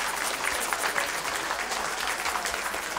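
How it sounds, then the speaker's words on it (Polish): Young people at a prayer meeting clap for the Lord in a fairly quiet but continuous burst of applause with a few audible individual claps, with no talk over it. "Wielkie brawa dla Pana."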